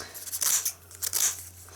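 Modern scissors with plastic handles snipping through material in two quick bursts of crisp, close cutting sounds, with faint room noise underneath and no talking.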